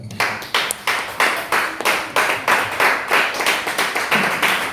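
A church congregation at a Sunday service clapping together in a steady, rhythmic beat, about three claps per second, loud and full throughout, with no one talking.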